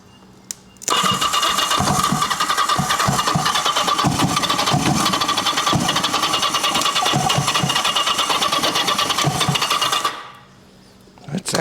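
A 1980 Kawasaki KZ750 motorcycle engine, started with a screwdriver across the starter because the button does not work, cranks and runs loud and steady for about nine seconds, then cuts out abruptly.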